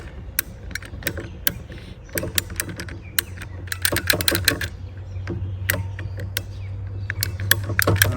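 Irrigation tubing in a backyard nursery is cut back, with a series of sharp, close mechanical clicks and snaps coming in irregular bursts that grow busier over a low background hum.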